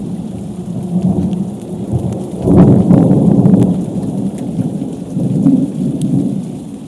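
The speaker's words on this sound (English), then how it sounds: "waiting for a thunderstorm to clear" Thunderstorm directly overhead at Temple Mountain, with a deep rolling thunder rumble swelling and fading amid steady loud rain drumming on surfaces nearby, no voices.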